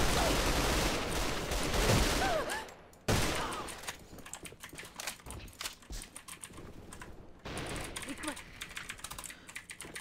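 In the online shooter AVA, an SA58 Para dog tag rifle fires in rapid, sharp automatic bursts. The bursts are loud at first, then come as choppier, quieter volleys separated by short gaps.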